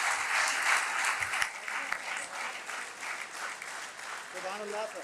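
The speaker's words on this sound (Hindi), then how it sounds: "भरपूर तालियां।" A mushaira audience at a poetry gathering in Lahore bursts into sustained applause, dense and continuous clapping from a large crowd, with a voice speaking near the end.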